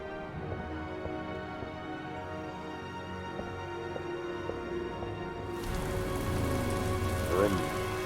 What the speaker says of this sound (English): Motorcycle in the rain.